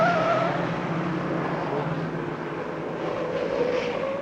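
A Mini race car pulls out of the pits at Bathurst during the 1963 Armstrong 500, its engine droning steadily with a whining tone over a few seconds, heard from fairly close amid circuit noise.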